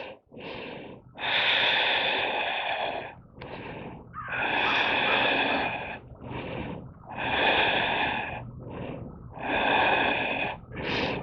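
Deep, audible breaths held in a high crescent yoga pose, slow alternating inhales and exhales repeating at an even rhythm, loud and close with no speech.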